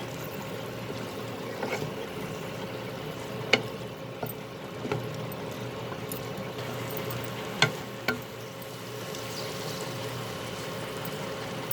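Spicy okra masala being stirred in a pan with garam masala added: steady sizzling frying hiss throughout, with a few faint scraping knocks of the spoon against the pan, close and with no speaking.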